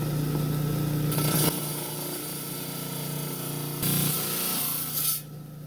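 A power saw cuts through a rock to split it down the middle, giving a steady grinding rub with a humming motor tone and brighter bursts of cutting noise, then stopping near the end.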